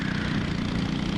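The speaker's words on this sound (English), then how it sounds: "Ooh, lugging it out of the corner." A 206 go-kart engine at a kart race lugs at low revs coming out of a corner, a steady, close mid-pitched drone with no one speaking over it.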